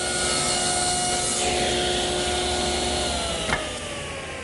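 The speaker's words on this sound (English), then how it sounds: "I'm using a 1/2-inch bit in my router." A router fitted with a 1/2-inch bit cuts a mortise in wood for a dining table, a loud steady high whine with a grinding, rasping cutting texture, close and continuous, ending with a brief knock.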